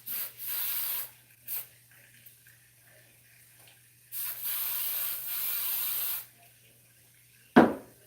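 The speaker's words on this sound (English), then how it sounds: "I like to just spray some hairspray on there to kind of set it in" Several hissing spray bursts, some short and one long, sounding close by in a quiet room, followed by a sharp knock.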